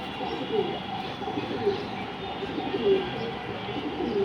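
Breeding racing pigeons coo softly in a loft, with a few low, throaty calls scattered over a steady background hum.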